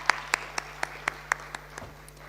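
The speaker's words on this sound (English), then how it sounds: "let's give them another round of applause" At a forum, a sparse round of applause rises for a professor and his team: a few distinct claps fall in a loose, slowing rhythm and fade out, over a faint steady hum.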